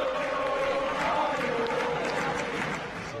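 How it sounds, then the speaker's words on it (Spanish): A stadium crowd gives Boca Juniors players a sustained ovation, a broad steady roar of many voices heard at a distance with no single voice standing out. "Seguían las ovaciones para los jugadores de Boca"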